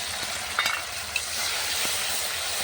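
Ginger-garlic and black pepper paste sizzles and hisses steadily in a pan of fried onions over a clay stove, with a few soft stirring scrapes.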